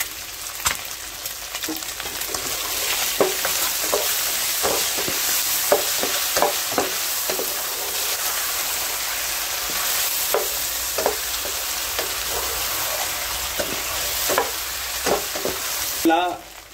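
Previously fried prawns with pepper and capsicum are stir-fried in a pan, loud continuous sizzling broken by repeated sharp scrapes and clacks of a spatula at an irregular rhythm, close up, no voices.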